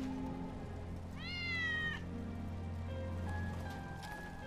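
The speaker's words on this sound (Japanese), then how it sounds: "ウェッジの猫だ。" A cat in Final Fantasy VII Remake gives a single clear, rising meow over a steady background hum and ambient game sound.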